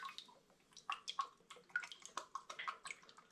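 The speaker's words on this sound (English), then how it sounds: "I'm going to balance that sweetness with some lemon juice, a few drips of that in there, and some lime juice." Lemon and lime juice drips into homemade rhubarb syrup, heard as a string of small, close liquid plips and patters at an uneven rhythm, fairly faint and with no talk over them.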